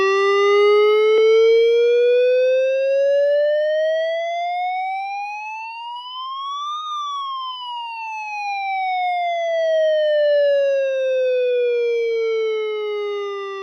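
A Midland WR10 weather radio sounds its alert test tone, a loud, continuous siren-like wail that climbs slowly in pitch, peaks, and glides back down, heard alone.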